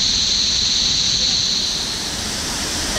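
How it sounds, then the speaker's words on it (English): Cummins Falls, a waterfall in Cookeville, Tennessee, roars as a loud, constant broadband rush close by, drowning out any other sound. "we're at a waterfall"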